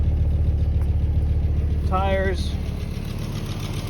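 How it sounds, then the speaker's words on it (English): A 1990 Audi Coupe Quattro's five-cylinder engine idles with a steady low throb and a ticking exhaust leak, someone speaking briefly over it. "I love that 5-cylinder sound though. There's an exhaust leak here,"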